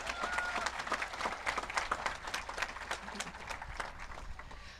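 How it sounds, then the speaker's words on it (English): A graduating high school class and audience at a commencement ceremony applaud together in a sustained, dense round of clapping that fills the space at a steady, fairly loud level. "So how about we give ourselves another round of applause?"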